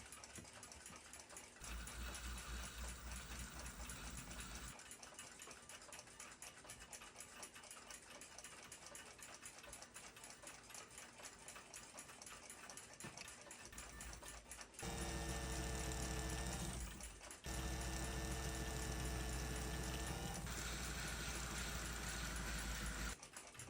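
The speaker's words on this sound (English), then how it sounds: "Now to ream the pivot holes out and fit some bushings." Pivot holes in a clock movement being reamed out before bushings are fitted, a steady whirring machine drone with a continuous motorized hum, changing pitch partway through and pausing briefly, close and alone without talk.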